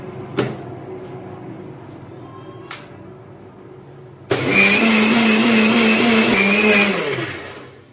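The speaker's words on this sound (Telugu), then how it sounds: "మిక్సీలో వేసి హాఫ్ కప్ షుగర్ మిక్సీలో వేసేసి దాన్ని మెత్త పౌడర్ చేయాలి" A mixer grinder powders half a cup of sugar: a few clicks and knocks while it is loaded, then the motor bursts on loud, whirs steadily for a couple of seconds and winds down.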